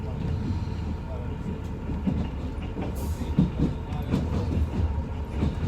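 A diesel train rolls along rails, its steady low rumble and rhythmic clickety-clack of wheels heard from onboard with continuous rattling throughout.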